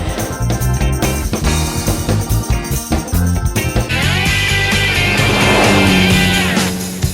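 A Mercedes 4x4 climbing a 45-degree slope at the Geneva motor show, a loud engine roar with revving that rises and strains over busy crowd noise and background music, steady throughout.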